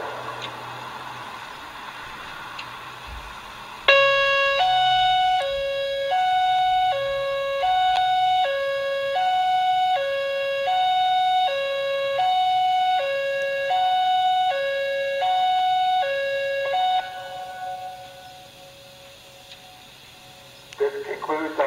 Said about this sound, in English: This is a test of the emergency alert system.